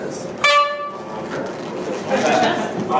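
A single bright horn honk sounds at an improv comedy show in a theater, a short toot used to cut off a scene, heard over the crowd and stage talk.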